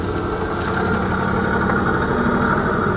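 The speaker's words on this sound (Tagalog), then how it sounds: "Ito po yung kanyang makina," A 2018 Hyundai Eon's small 800cc three-cylinder engine idles steadily, a loud, close, even thrumming with a constant low vibration and no revving.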